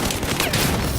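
Gunfire in the video game Battlefield 4 comes as a dense, loud, unbroken burst of rapid shots that fills the whole second with no pauses.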